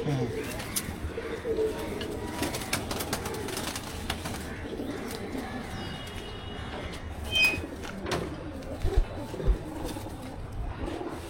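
Pigeons from a Bangladeshi breeder's collection coo quietly, scattered over a long stretch of shuffling, clattering background noise with faint voices nearby.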